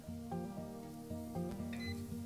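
Button presses on a USB-charged pore vacuum cleaner give a few sharp clicks with short electronic tones between them, close and fairly quiet, with no talking.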